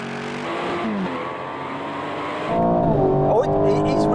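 An Aston Martin launches hard in a drag race, its engine roaring loud and rising in pitch, then a shift drops the revs before the note climbs again, with voices talking over it.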